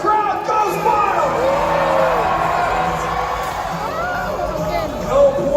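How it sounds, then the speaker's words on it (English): A crowd at a joust show at the PNE fairground in Vancouver cheers and whoops loudly, with shrill rising voices and general hubbub sustained throughout. "And the crowd goes wild."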